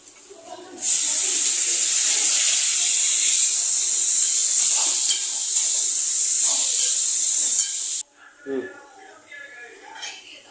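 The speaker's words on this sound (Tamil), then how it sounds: "இப்போ தக்காளி போட்டு வதக்கிக்கலாம்." Tomatoes hit a hot pan of fried onions with a loud, steady sizzle that lasts several seconds, then cuts off into quieter scraping and clinks.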